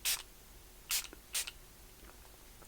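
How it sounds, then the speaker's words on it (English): Three quick hissing spritzes of Huda Beauty Resting Boss Face setting spray, each a short close burst of mist with quiet pauses between, no talking. "I'm going to go in with a little spritz of the Resting Boss Face from Huda Beauty."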